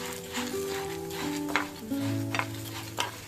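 Urad dal roasts in a pan, with a soft sizzle under repeated stirring scrapes and a few brief clinks, close and fairly quiet, for Mysore-style chutney pudi.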